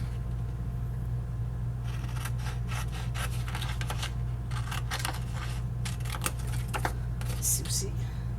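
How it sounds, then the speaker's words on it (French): Scissors cut paper along a fold line for an accordion album, a series of close, crisp snips over a steady low hum, with a voice now and then. "Alors, on coupe sur la ligne."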